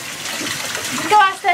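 Water runs and gushes steadily into a bathtub while a dog is washed, a loud close flow with a voice briefly audible toward the end.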